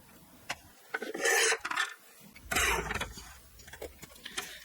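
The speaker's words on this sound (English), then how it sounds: "I just need to trim a sliver off the other side" Paper is trimmed as a sliver is cut off the side of folded paper, giving a few short rasping cuts and rubs close by, separated by quiet gaps.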